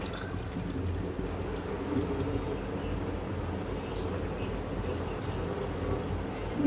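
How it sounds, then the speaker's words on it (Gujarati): Water being poured off a pot of boiled corn on the cob at home makes a steady, continuous rushing splash that runs unbroken for the whole stretch, fairly close, with no talking. "પાણી બીજું કાઢી દઈએ"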